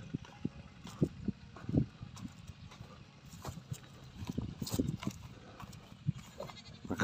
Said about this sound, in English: A couple goats I bought.